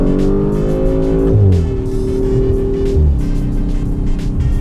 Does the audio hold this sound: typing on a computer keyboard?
no